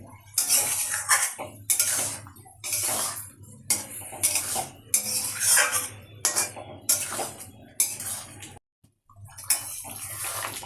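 White aloo dum, potatoes with sour yogurt and a little poppy seed paste, is stirred in a pan over a low flame. Loud, close scraping and clanking strokes come in bursts, with a brief pause near the end.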